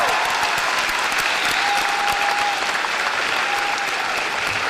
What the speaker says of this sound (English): stand up and give a big round of applause for what they're doing for you to get you to this point